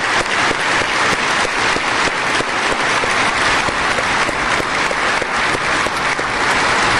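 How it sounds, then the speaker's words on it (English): A room of attendees at a city council meeting gives award recipients a loud, dense round of applause, with sustained, even clapping throughout. "Please join me in another round of applause for all the award recipients today."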